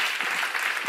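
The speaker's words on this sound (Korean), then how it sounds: "여러분 삶에도 있을 수 있다고 믿는 사람만 박수 쳐보세요." A church seminar congregation claps together in a brief, steady burst of applause with no voices over it.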